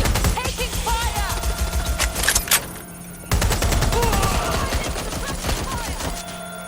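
Dense bursts of automatic gunfire and rapid shots in the Watch Dogs Legion video game, loud and nearly continuous with a brief lull midway, while a voice shouts over the din.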